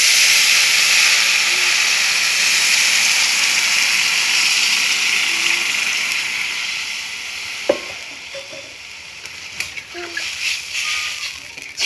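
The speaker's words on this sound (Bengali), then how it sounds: "এখন জল দিয়ে দেবো।" Water poured onto fried lentils in a hot pan gives a steady, loud hiss and sizzle that slowly fades, with a few clinks and stirring knocks toward the end.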